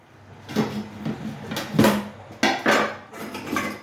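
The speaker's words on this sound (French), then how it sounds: "opération vaisselle." Dishes, pots and cutlery clatter and clink during washing up, in several short bursts of knocking and scraping, fairly close with no talk.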